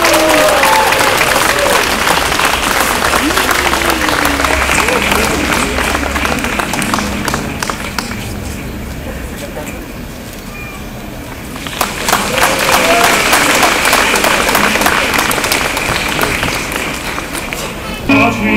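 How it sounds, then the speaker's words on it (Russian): Outdoor audience at Minsk town hall applauding opera soloists before a Don Giovanni duet, loud dense clapping mixed with crowd voices and shuffling footsteps that dips midway, then swells again. "Ваши аплодисменты!"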